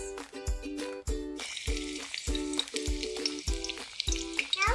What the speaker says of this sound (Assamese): পিঁয়াজ মই এটা দিছোঁ, মিডিয়াম জোখৰ পিঁয়াজ ধুনীয়াকৈ কাটি লৈ এয়া পিঁয়াজ দিছোঁ।